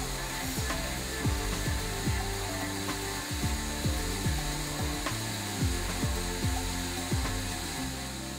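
A five-axis CNC machine at a mold-making shop cuts metal with a busy, grinding clatter. Repeated sweeping tonal bursts rise and fall every fraction of a second over a constant noisy background, with no speech.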